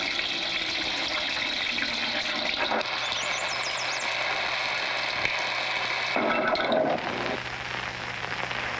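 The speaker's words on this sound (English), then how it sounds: "Sprinkle with ordinary tap water." Ordinary tap water hisses steadily, a continuous splashing wash of water that stays fairly even throughout, with a brief shift in texture near the end and no talking.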